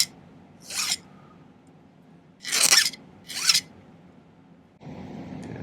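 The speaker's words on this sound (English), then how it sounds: "single cut bastard file. Just kind of bevel it under, just slightly." Single cut bastard file rasping along the edge of a silver earring, three short distinct strokes separated by quiet gaps, close and crisp, followed by a low steady background hum.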